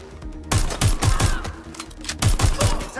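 Bursts of rapid gunfire in the video game Watch Dogs: Legion, loud and close, arriving in several quick clusters of sharp shots with brief pauses between them.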